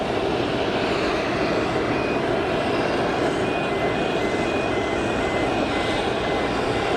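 A Swiss Airbus A220-300 jet airliner at Geneva Airport gives off a steady, loud broadband engine roar that holds evenly throughout, with a faint high whine running over it.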